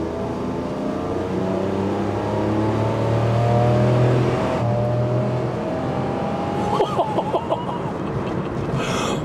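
The last Honda Acty kei truck, an automatic, accelerates from inside the cab, its small engine droning steadily and climbing in pitch as it revs up, then easing off before a few clicks near the end.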